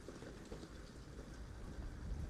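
Rain on a wet February day falls as a steady, dense patter on UK roads, mixed with low rumbling, continuous and fairly close throughout the short stretch with no talking.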